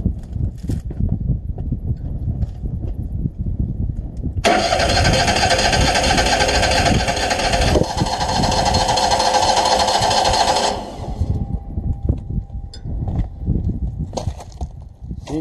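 A Woodmizer sawmill engine cranks repeatedly without catching: a low, uneven starter rhythm with a long loud burst of rapid mechanical chatter in the middle, then more weak cranking, close up and with no voices.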